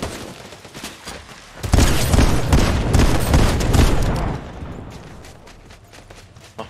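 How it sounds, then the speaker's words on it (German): A rapid burst of gunfire in Fortnite erupts, dense overlapping shots loud and sustained for a few seconds before tapering off into a lingering rumble. "Oh, Schüsse."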